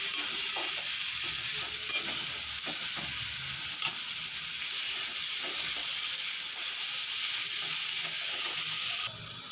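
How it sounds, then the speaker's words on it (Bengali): Pressure-boiled kabuli chickpeas frying in a pan for ghugni, a loud continuous sizzle with soft scraping stirs underneath, no talking, easing slightly at the very end. "এবারে আমি ঘুগনিটা দিয়ে দেবো।"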